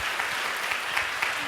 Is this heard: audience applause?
yes